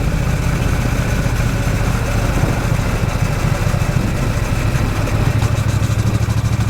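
A Triumph Bonneville motorcycle engine runs with a steady, throbbing low rumble, loud and continuous throughout, with no talking.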